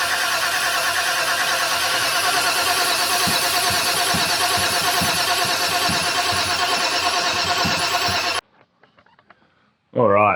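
A Holden VN 5.0-litre V8 cranks and fires, then runs loud and steady at a rough idle for about eight seconds before cutting out abruptly. A short loud burst follows at the end.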